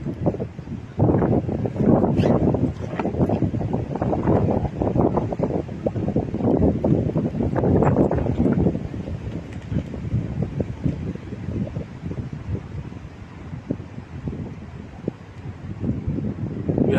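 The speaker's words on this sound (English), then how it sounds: "Heavy wind in the ground now." Heavy wind buffets the microphone at an outdoor cricket ground, a loud continuous roaring rumble with gusty surges and no voices.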